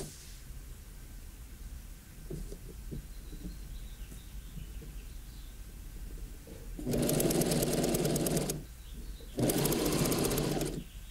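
A sewing machine stitches the yoke seam of a peasant blouse, running in two steady buzzing bursts of about a second and a half each, separated by a short pause. It is close, fairly loud, and there is no talk over it.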